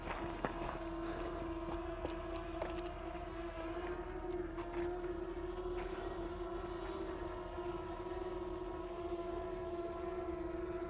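A Potensic Atom LT drone idles in place with a steady high-pitched buzzing whine and faint harmonics, continuous and fairly close, with no talking.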